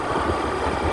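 A new Swaraj tractor engine idles nearby, a continuous low, slightly rough chugging drone that holds steady for the whole moment with no one speaking.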